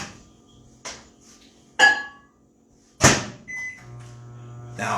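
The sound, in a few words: microwave oven running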